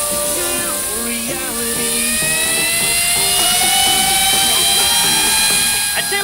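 A fidget spinner whirs at high speed, a loud continuous whine with steady tones that slowly rise and shift, sounding smooth and unbroken for several seconds.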